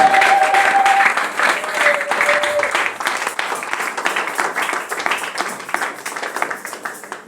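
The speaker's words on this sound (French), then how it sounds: "Est-ce que nous pouvons acclamer encore pour notre Seigneur, le roi des rois, le Seigneur des seigneurs?" A church congregation applauding and cheering during a sermon on the Ascension of Jesus, sustained dense clapping from a large crowd with a few raised voices early on, gradually thinning toward the end.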